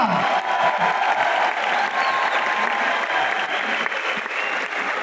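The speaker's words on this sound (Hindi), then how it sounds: "मैं चाहूंगा एक बार जोरदार तालियां" Loud, dense applause from a large audience at a direct selling industry event in the Thyagraj Stadium complex, sustained clapping throughout with some crowd noise mixed in.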